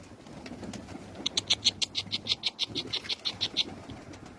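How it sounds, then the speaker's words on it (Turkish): A tumbler pigeon gives a rapid series of about fifteen short, bright pulsed calls in a steady rhythm, close by over a soft outdoor background. "Kuş dolapçıymış."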